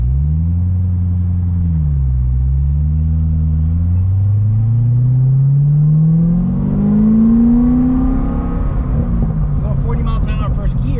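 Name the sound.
2009 Corvette ZR1 wide open throttle exhaust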